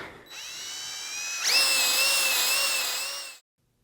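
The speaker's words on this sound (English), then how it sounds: "maybe one more pass with the hone will knock that down" A drill-driven ball hone spinning inside a cylinder of a junkyard 6.0 LS engine: a loud, steady, high-pitched whine that rises in pitch partway through, then stops abruptly.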